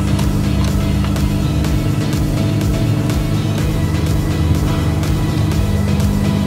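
A car engine idles steadily nearby, its low hum and faint rhythmic knocking running continuously throughout, during work on a car's wheel and axle nuts.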